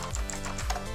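A few quick keystrokes on a MANIC X40 mechanical keyboard, close and crisp, a short uneven burst of clicky taps with no voice over them.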